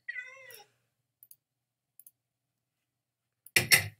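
Cartoonish cat meow from a Minecraft-style video game, a short wavering call at the start, then near silence with faint clicks before a loud burst of clattering noise at the end.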